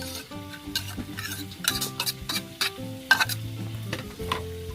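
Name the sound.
onions added and stirred, sizzling in frying pan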